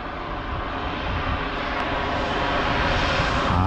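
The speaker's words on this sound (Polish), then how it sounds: "A tutaj samolot leci" An airplane engine drones steadily overhead at a skydiving site in Castellón, a broad roar that grows slightly louder toward the end, with no voices.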